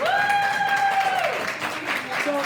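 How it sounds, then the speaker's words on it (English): An audience at a Science on Tap evening talk on hydrogen energy applauds after a steady whistle-like tone fades, leaving a spread of scattered clapping mixed with murmuring voices. "everybody give Christine a round of applause"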